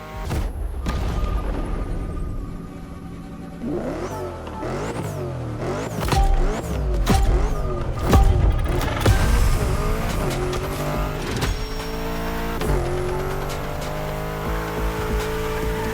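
A BMW M5 Drift Edition, a 953-horsepower front-engine car in the racing game The Crew Motorfest, revs hard in repeated rising and falling sweeps with squealing tires during a drift. It is loud and close, with no talk.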